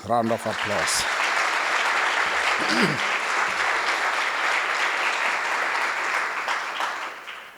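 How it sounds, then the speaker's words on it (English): Dinner audience applauding challenge participants at a gala, steady dense clapping sustained throughout after a brief spoken line at the start. "they all deserve a big round of applause"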